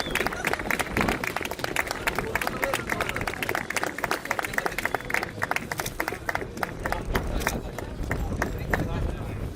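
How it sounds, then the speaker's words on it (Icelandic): Applause from the audience at a prize-giving for a street mile race, steady rapid clapping from a crowd that carries through the whole stretch, with an announcer's voice over it. "Gefið honum gott klapp."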